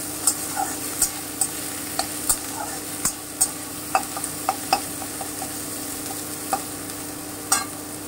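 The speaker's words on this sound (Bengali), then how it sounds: "কুচনো পেঁয়াজটা দিয়ে দিচ্ছি। আমি 3টা পেঁয়াজ এখানে কুচিয়ে নিয়েছি, বড় সাইজের। আমি হালকা ফ্রাই করব, খুব বেশি না।" Three large chopped onions frying lightly in a pan, with a low steady sizzle and regular scraping clicks from stirring, quiet and close, without talk.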